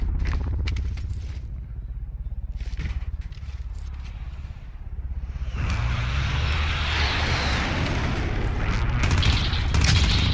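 Gunfire in the battle royale game Warzone, scattered shots at first, then a dense loud roar of firing and explosions that fills the second half.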